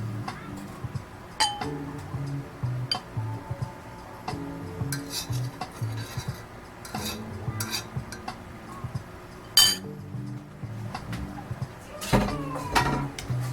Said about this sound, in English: Got a bowl. Throw our noodles in there.